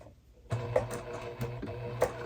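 A hand-cranked sewing machine stitches slowly along a curve on a crossbody bag, with a steady mechanical whir and a few louder clicks of the needle and crank. The sound is close and clear, and no one speaks.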